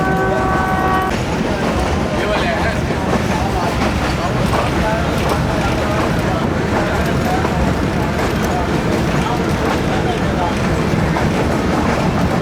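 A Jand shuttle train runs through mountain valleys, its steady rumble and rail clatter continuous and loud throughout, with a brief tonal note near the start.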